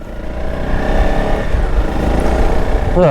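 Honda CRF 300 Rally motorcycle engine pulling steadily uphill, a continuous loud close-up drone with harmonic engine tones throughout, no gear changes.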